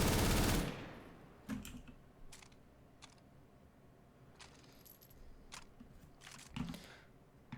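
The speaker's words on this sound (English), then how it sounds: "They make it sound like just a much heavier light machine gun round to more accurately fit the kind of gun it is." Negev light machine gun fired in CS:GO, heavy rounds with a deep punch; one loud burst opens, then scattered sharp shots and clicks follow at moderate level with a low background rumble.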